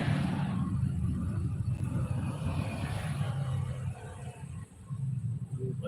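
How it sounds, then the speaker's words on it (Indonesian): Busy road traffic in Prabumulih, South Sumatra, with a steady roar of cars and motorbikes passing close by, engines rumbling and revving in a continuous dense wash and no talking. "Ramai sekali ini kendaraan. Sangat ramai sekali guys."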